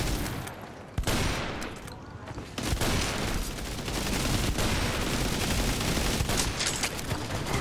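Rapid gunfire in the World War Heroes shooter game, dense bursts of shots and booms rattling on continuously with a sharp crack near the start and a brief lull before resuming, a voice faintly mixed in.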